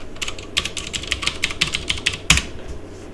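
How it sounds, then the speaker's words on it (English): Someone types a command on a computer keyboard, producing a quick run of light, crisp key clicks at an uneven pace, with one sharper keystroke near the end, close up in a quiet room. "Type the command bash version."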